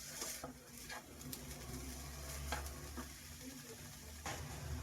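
Vegetables sautéing in a pan for upma with green chilies, a soft continuous sizzle with occasional scrapes and stirring clicks of a spoon, quiet and close, with a low hum underneath.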